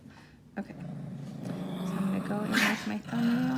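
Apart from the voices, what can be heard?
dog growling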